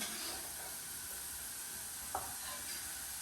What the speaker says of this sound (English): I'm going to let them sizzle for a couple of minutes, maybe 2 minutes on that side.